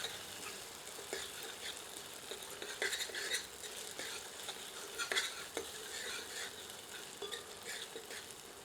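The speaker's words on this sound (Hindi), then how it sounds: "अब इसमें 1 टेबल स्पून अदरक लहसुन का मिश्रण संयुक्त करते हैं। मिलाकर 1 मिनट मध्यम आंच पर भूनते हैं।" Onion with ginger-garlic paste fries in a pan over medium heat for a mixed greens saag, a soft steady sizzle under repeated scraping stirs of a spoon, close and fairly quiet, with no talking.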